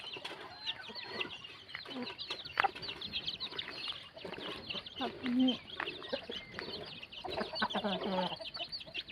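Chickens cluck and call through a morning garden of eggplant and vegetables, a steady flock chatter near and far, with a voice talking briefly over it.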